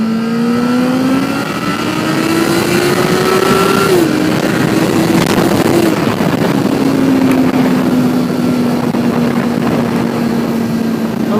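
Honda CBR1000RR sport motorcycle engine under way, a loud steady drone rising in pitch through the gears with a brief shift near the four-second mark, then holding a steady cruising tone with wind rush, no talking.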